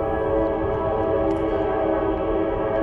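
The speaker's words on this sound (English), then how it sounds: "It's a choo-choo train." A train passes near a river, a sustained loud rumbling drone with steady tonal layers like horn or engine hum, continuous and close, without talk.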